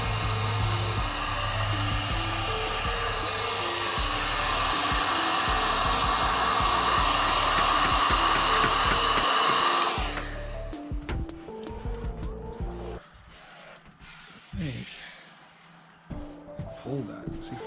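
A heat gun blows with a loud, steady hiss and whir as it heats vinyl wrap along cut lines on a Toyota TRD 4Runner hood scoop, then cuts off, leaving quieter handling noises and a voice.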